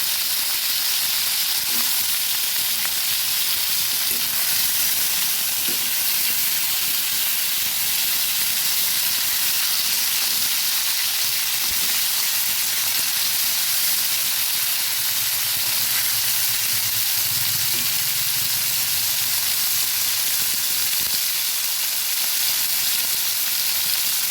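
Tengra fish fry in hot oil in a wok with a continuous hissing sizzle, even and fairly loud, steam-like throughout and without any talking.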